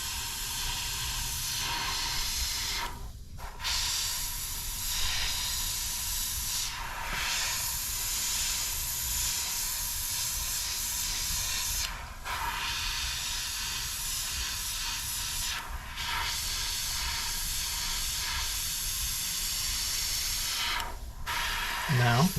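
Airbrush or spray gun hissing steadily as paint goes onto a paper card model of a Me-410 aircraft, a continuous close spray with a few brief pauses, under occasional quiet talk.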